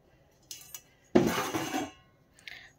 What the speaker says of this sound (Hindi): बहुत सारे बर्तन हैं, बहुत सारे बर्तन धो लेते हैं।